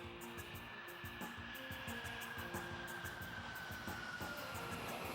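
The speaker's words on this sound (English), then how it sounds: "another plane lands." A steady roar of a landing airplane, a broad engine rumble with a thin high whine, holding fairly level throughout.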